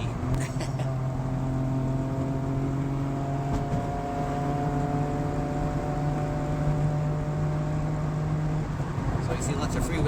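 SAAB 95 car coasting downhill with the engine freewheeling, a steady low drone with faint whine tones held close and constant under the cabin, ending with a brief shift near the end.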